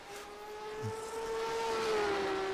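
Race car engine in the Automobilista sim racing game at Sebring, a steady high-pitched engine whine that holds pitch and slowly swells louder, with no talk over it.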